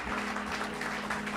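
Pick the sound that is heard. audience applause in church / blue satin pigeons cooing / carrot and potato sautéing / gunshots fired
audience applause in church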